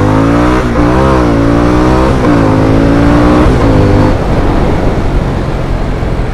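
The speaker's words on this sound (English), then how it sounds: "have a look at the acceleration off the mark" A 2025 Harley-Davidson Sportster S in sport mode launches hard, its engine revving up through several rising, stepped gear pulls, loud and close, then fading into rushing wind noise after about four seconds.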